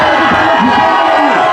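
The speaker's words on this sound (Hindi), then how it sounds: "ये भीड़ इलेक्ट्रीफाइंग देखिए, ये कितनी इलेक्ट्रीफाइंग है, यहाँ पर भीड़ है।" A dense crowd of students at a protest at Jantar Mantar cheers and shouts loudly and continuously, with overlapping excited voices close by.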